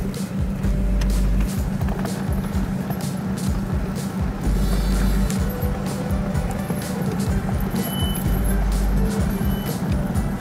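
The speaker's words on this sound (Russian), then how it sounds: "А, ну и все. То есть мы не едем. У нас с другой стороны колесо буксует." A car's wheel spins in place with a cheap anti-skid chain device fitted, giving a steady engine drone with repeated rhythmic clanking and slapping pulses from the chain as it turns.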